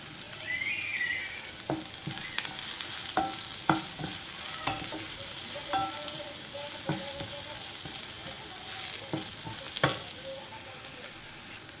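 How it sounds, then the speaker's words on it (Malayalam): Raw cashews and onions are sautéed in a pan, giving a soft continuous sizzle broken by a series of distinct scraping and tapping strokes of a spoon at irregular intervals, fairly quiet and close. "നമുക്ക് പച്ചപ്പറങ്ങാണ്ടി ഇട്ട് കൊടുക്കാം. അതിലേക്ക് അത് നമുക്കൊന്ന് ചെറുതായിട്ട് വഴറ്റിയെടുക്കാം."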